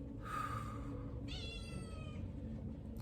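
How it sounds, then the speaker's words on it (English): A house cat meows twice in quick succession, a short bright call followed by a longer drawn-out one, close by over a low steady background hum. "unless you have a cat and then she decides to interrupt"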